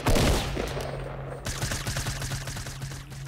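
Rapid bursts of gunfire in a Fortnite Battle Royale match, a loud opening volley followed by a dense stream of repeated shots with a steady low hum beneath.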